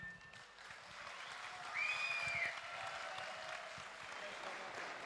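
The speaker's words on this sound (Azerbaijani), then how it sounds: "Birinci kişilər alqışlasın." Men clap together at an Azerbaijani wedding celebration, a dense, steady burst of applause that swells midway, with a brief high whistle cutting through, against a busy room.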